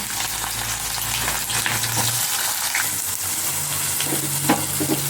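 Bay leaf, cinnamon, cloves and onion frying in hot oil for mutton biryani, a continuous loud sizzle with occasional stirring scrapes and clinks, no talk over it.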